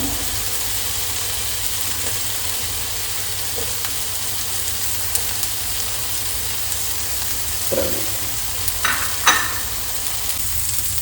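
Green chilies sizzle steadily in a pan for coconut chutney, a soft continuous frying hiss with a few light clicks of stirring near the end.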